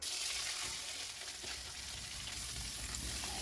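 Fish sizzles and crackles in hot oil in a home kitchen, a steady dense frying hiss close by with faint stirring clinks, no talking.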